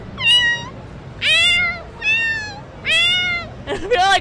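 A person imitates a cat with a series of about four drawn-out, high, nasal meows, close and clear, each separated by a brief pause, ending in a quicker broken call.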